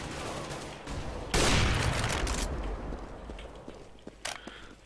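A burst of rapid gunfire in Counter-Strike: Global Offensive erupts, loud and brief, followed by scattered softer shots and clicks against a low background hum.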